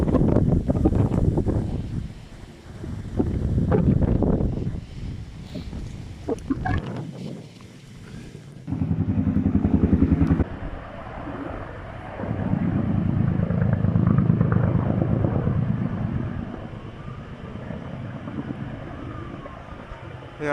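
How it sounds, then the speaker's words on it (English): A firefighting helicopter loaded with water passes overhead during a wildfire near a village on Kefalonia. The deep rotor drone rises, holds, then fades under heavy wind buffeting on the microphone. "There comes the helicopter with more water."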